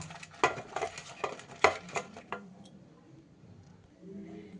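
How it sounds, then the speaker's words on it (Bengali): Eggplant pieces are mixed with salt and turmeric by hand in a bowl, giving a burst of quick clattering and scraping strokes that fade into quiet near the end. "সুন্দর করে নুন আর হলুদ আমি বেগুনটার মধ্যে মাখিয়ে নেব"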